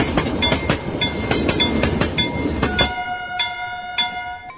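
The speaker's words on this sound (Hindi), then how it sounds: "आज भी सभी ट्रेन चालक टंट्या मामा के सम्मान में ट्रेन को एक पल के लिए रोक देते हैं।" A train passing as a radio drama effect, with a steady rolling rumble and clatter of wagons over the first few seconds, then ringing bell-like tones carrying on alone after the rumble stops.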